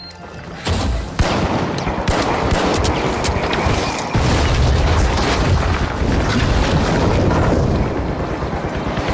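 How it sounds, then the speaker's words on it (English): A frag grenade blast in the shooter game The Finals, heard inside a dense, loud stretch of continuous booming and rattling gunfire with no break across the clip. "Frag grenade sent!"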